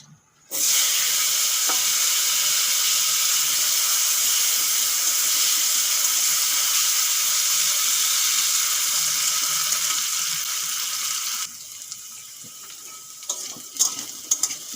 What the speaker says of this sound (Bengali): কেটে রাখা আলু হলুদ লবণ মাখিয়ে ভেজে নেবো